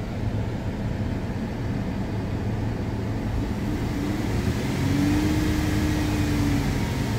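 A Dodge Grand Caravan engine holds a steady high-RPM rev, around 3,500 RPM, as a continuous droning hum with a rising whine near the end. The sound is close and constant, with no voices.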